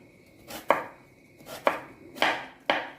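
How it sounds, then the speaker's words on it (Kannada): A knife chops a banana stem into small pieces on a board with four distinct, close chops, each a sharp crunchy thud followed by a brief pause. "ಸ್ವಲ್ಪ ಸಣ್ಣ ಸಣ್ಣ ಪೀಸ್ ಮಾಡ್ಕೊಳ್ತೀನಿ ನೋಡಿ"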